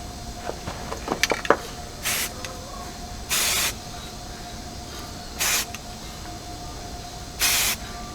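Spray paint misted onto pine branches held against a homemade tree climbing stick, heard as four short, even hissing bursts spaced a couple of seconds apart over a quiet background.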